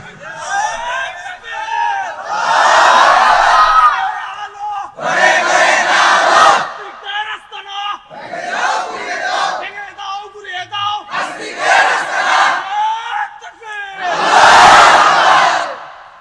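A large crowd at a religious sermon gathering roars the takbir chant, Allahu Akbar, in loud, repeated surging bursts separated by short pauses.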